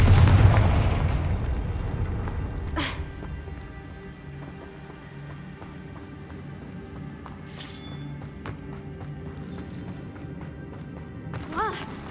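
Confringo fire spell blasts in Hogwarts Legacy: a loud burst at the start, then a few sharp crackling hits spread across the clip over low rumbling game ambience.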